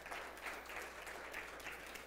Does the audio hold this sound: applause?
yes